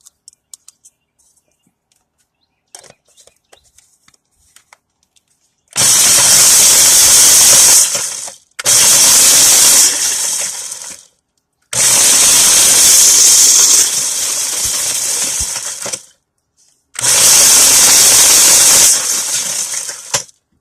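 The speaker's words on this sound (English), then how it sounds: "I went ahead and I finished chopping up the potatoes" Dehydrated potatoes being chopped in a camping or van-life kitchen, four long loud bursts of harsh crunching and clattering separated by short pauses, with faint light tapping before them.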